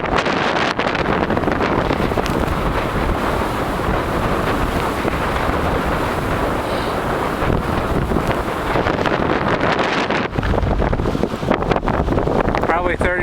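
Strong wind of about 30 mph roars steadily across the microphone on a cold outdoor snowshoe walk. The buffeting is loud and continuous throughout, with gusty rumbles and a brief lull near the end.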